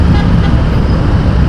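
Heavy road traffic on the way to Manila from Cavite, recorded from a Honda Click125i motorbike, makes a loud, dense engine rumble close by, with a brief car horn toot in the mix.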